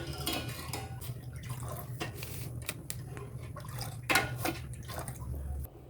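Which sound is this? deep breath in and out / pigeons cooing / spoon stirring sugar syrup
spoon stirring sugar syrup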